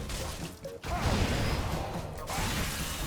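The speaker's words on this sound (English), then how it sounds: "it sounds like I'm just shattering glass" Frostbite hit effect in Dark Souls 3 with a +4 Irithyll weapon, a dense, glassy shattering crash that fills the clip almost continuously, breaking off briefly twice before surging back.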